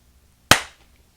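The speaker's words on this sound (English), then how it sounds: "I'm going to do one clap." A single sharp hand clap rings out alone in a quiet room, one crisp snap with a short decaying tail.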